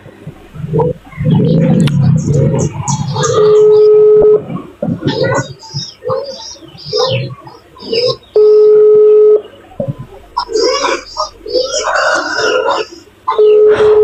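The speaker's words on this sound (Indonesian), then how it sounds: "Telepon dulu si Greg" A telephone call being placed, with a steady electronic ringback tone repeating about every five seconds, while people talk loudly and continuously around it.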